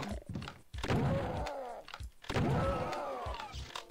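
Heavy mechanical door in a dark room of the game Doom (Master Levels, Geryon.wad) thunks open twice, each a loud low rumbling slide ending in a dull stop, with no voices over it.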